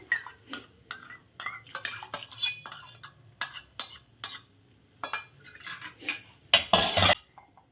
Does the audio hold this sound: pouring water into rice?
no